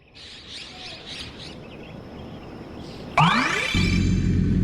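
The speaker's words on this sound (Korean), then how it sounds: "오른쪽 나무에 숨은 새들이 지저귀는군요" Birds hidden in trees in the African savanna chirp in short repeated bursts of tweets. Near the end a loud whoosh and low rumble cut in over them.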